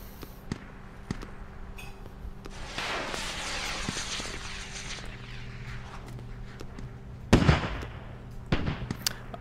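Artillery fire for effect in the military shooter Squad: several booming impacts, one long rumbling roll in the middle, then a sharp loud blast and a couple of closer hits near the end, over a low steady background hum.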